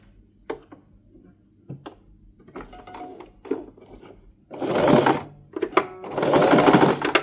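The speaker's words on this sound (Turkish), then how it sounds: "Tekrar ileri geri. Böyle bitirdim dikişimi." Sewing machine stitching a seam on a ruffled collar, running forward then backward in two loud sustained bursts after quieter clicks and handling noises.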